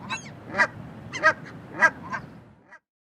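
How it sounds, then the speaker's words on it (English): Canada goose honks in a short series of about five loud, nasal calls spaced irregularly over a couple of seconds, alone and close. "Canada goose."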